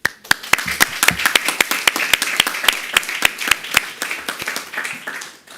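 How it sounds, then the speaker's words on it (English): A small audience at the European Youth Adaptation Forum on climate adaptation claps for the forum speakers, with individual sharp claps distinct in a close, uneven burst lasting several seconds. "join me with a big applause for all of them"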